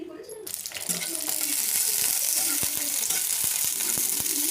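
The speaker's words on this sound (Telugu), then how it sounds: "ఒక స్పూన్ ఆయిల్ వేసుకుందాము ఆయిల్ వేసాక ఇందులో పచ్చిమిర్చి వేసుకుందాము" Green chillies hit a spoonful of hot oil for tomato chutney and set off a loud, steady sizzle that carries on without a break, with a few faint clinks of stirring.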